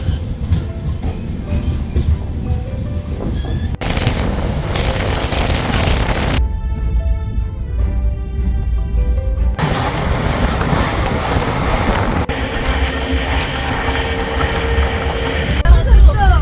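A moving passenger train bound for Jaisalmer, Rajasthan, rumbles from inside, with a steady low roar, wheel noise and squeals that shift through abrupt sound changes, loud and continuous.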